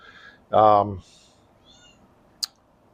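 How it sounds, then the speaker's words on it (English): A cat gives one loud, close meow, followed by a short quiet pause and a single sharp click, in a garage where a 1970 Challenger is being worked on. "I got cats that are yelling at me."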